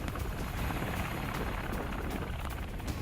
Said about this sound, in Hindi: हेलीकॉप्टर के जरिए इमरजेंसी लैंडिंग करते हुए अभ्यास की ये तस्वीर भी आपके सामने होगी।